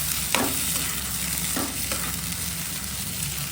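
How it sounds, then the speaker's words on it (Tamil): A spoon stirs green chicken gravy in a pan over a constant loud sizzle, with a couple of distinct scraping strokes against the pan bottom and no talking. "நல்லா மிக்ஸ் பண்ணி விடுங்க"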